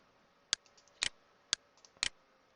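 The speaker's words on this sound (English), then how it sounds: "by right-clicking and clicking Edit." A computer mouse clicking, four sharp isolated clicks spaced roughly half a second apart, close and crisp over a quiet background.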